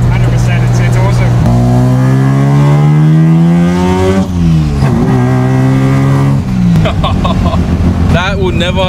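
A Mazda 1300 with a 13B bridgeport-ported rotary engine accelerating hard, a loud, buzzy rotary wail climbing steadily in pitch through the gears with brief dips at each shift, heard close from inside the car.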